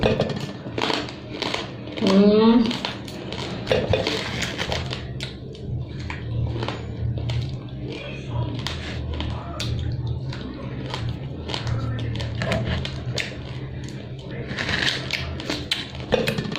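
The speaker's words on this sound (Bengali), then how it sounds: "দেখো মুচমুচ করে আমি খাই" Crunchy, repeated bites and chewing of betel nut (supari) sound close and crisp in an irregular rhythm, with a voice talking in between.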